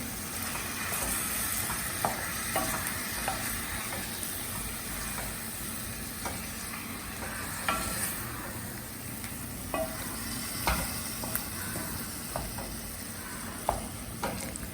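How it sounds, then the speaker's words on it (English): Curd mixture being stirred in a pan over a slow flame, with soft, steady scraping and occasional light knocks of the spoon against the pan over a quiet, continuous simmering hiss, close by and without talk. "So put it on slow flame and mix the curd."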